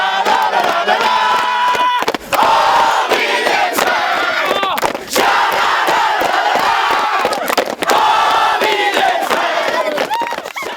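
A crowd of Víðir football fans in Garður roars and cheers at full time after their team wins promotion to the second division, a dense, loud, continuous wall of shouting, whooping and chanting with no pause.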